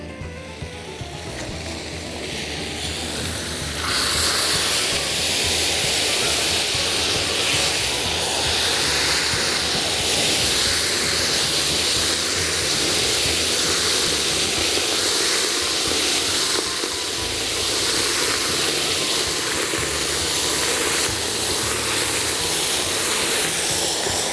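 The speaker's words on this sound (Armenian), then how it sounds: "Ավելացնում ենք մեր գաղտնի զենքը, որ սպիտակ գինի է։" White wine poured into a hot pot of layered stone-cooked apur in an Armenian kitchen, setting off a loud, steady steam-laden sizzle that bursts up after a few seconds and holds strong, hissing and crackling for the rest of the stretch.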